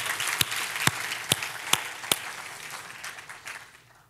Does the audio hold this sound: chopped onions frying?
no